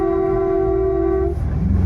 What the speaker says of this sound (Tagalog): Sige, diretso yung busina.